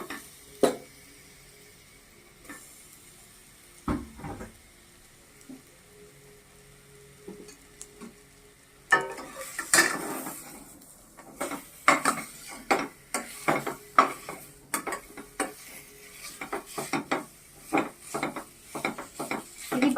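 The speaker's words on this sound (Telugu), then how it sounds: "దాన్ని కూడా నెయ్యిలో లైట్గా వేయించాలి" Dates fry lightly in ghee while being stirred: a quiet, faint sizzle at first, then a denser stretch of repeated clacks and scrapes of a spoon against the pan in an irregular rhythm, close by and without talking.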